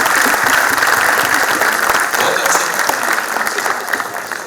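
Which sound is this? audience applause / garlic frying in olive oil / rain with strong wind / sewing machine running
audience applause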